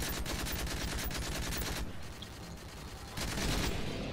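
Rapid automatic gunfire from the Call of Duty Modern Warfare 3 SpecOps mode, loud, continuous bursts with a brief lull mid-clip before firing resumes, no talking.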